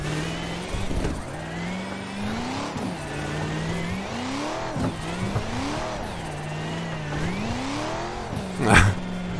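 BMW E92 race car engine idling and surging through repeated rises and dips in pitch, as if faltering and being coaxed back, close and loud, with a sharp burst near the end.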